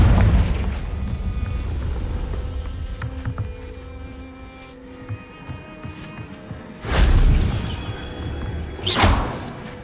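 Fire spell explosions in the Hogwarts Legacy video game: a low rumbling blast that fades, then two sharp, loud bursts near the end, each with a bright crackling whoosh.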